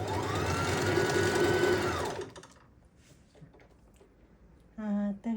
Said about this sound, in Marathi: मी ती आधी पट्टी शिवून घेते आणि ती याला जोडणार आहे